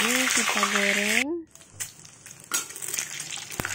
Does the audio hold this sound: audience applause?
no